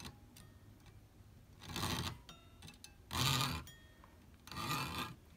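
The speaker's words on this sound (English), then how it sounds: "take your saw and put it at a slight angle and start sawing very" Three separate bursts of light, raspy sawing strokes on metal, each about half a second, spaced apart with quiet gaps between them.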